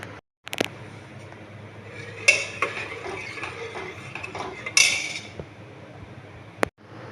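A ladle stirs bottle gourd curry in a pot with milk, giving a few sharp metallic clanks and knocks against the rim amid softer scraping, close and otherwise quiet.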